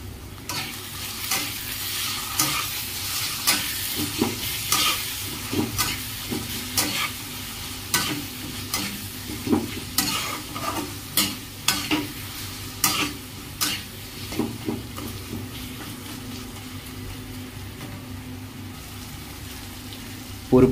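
Masala stirred with salt and coriander powder in a pan for Bhoji-style macha kalia, a steady run of spoon scrapes over a soft constant sizzle, near and moderately loud, with no talking.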